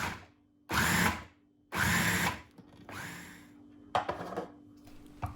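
A food processor chops mint and coriander for kebab in two loud whirring bursts of about a second each, then a softer, longer run, ending with a few clattering knocks and scrapes.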